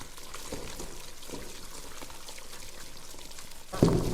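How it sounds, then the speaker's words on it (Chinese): Scallion-ginger water is poured into dumpling filling, with a continuous soft trickle and splash of liquid that swells briefly near the end. "给它加入这个葱姜水"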